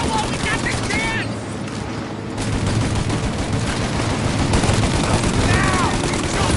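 Sustained gunfire during a shootout in Mafia Definitive Edition, a continuous crackle of shots with a brief lull, under shouted dialogue.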